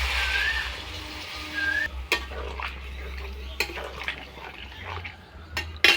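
Coconut milk goes into a pan of sautéed potato and soybean chunks for a Bengali village-style curry, followed by scraping and clinking stirring strokes with a spoon against the pan over a low steady simmer, with brief speech.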